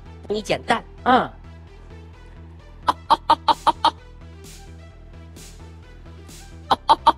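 A voice imitates a hen from Xi'an clucking, with a few drawn-out squawks, then a quick run of sharp clucks and a final short burst, set between brief bits of stage speech at a crosstalk comedy show.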